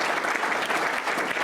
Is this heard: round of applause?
yes